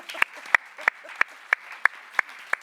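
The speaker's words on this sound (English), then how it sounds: "I think that's just worth a round of applause" Slow, evenly spaced hand claps, about eight sharp strikes in a steady rhythm, come from a small audience at a start-up day event. The claps are fairly close and stand alone with no talk over them.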